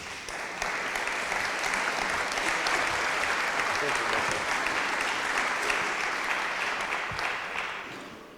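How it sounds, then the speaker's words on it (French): Sustained applause from the audience at the opening of a land operators' network meeting, as the president is welcomed to speak: dense, steady clapping near and loud, holding for about eight seconds before tapering off. "nous vous écoutons avec plaisir et sous un tonnerre d'applaudissements"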